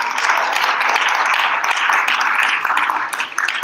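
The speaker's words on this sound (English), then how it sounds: "Please give Nishi a huge round of applause again." Audience applause after a Bharatanatyam arangetram dance debut, a dense, steady wash of many hands clapping continuously, loud and close throughout with no break.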